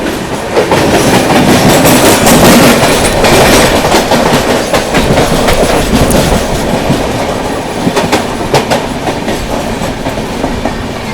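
The Kolkata Jammu Tawi Express passes close by at a railway crossing, loud and steady, its wheels beating a rapid clickety-clack over the rails for the whole stretch with no voices.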